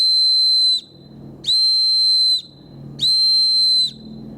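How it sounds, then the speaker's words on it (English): Loud emergency whistle from the drawstring pouch of a sturdy bivy bag kit, sounding three long shrill blasts of almost a second each, evenly spaced with short gaps, close and piercing with no talk. "The whistle is very loud."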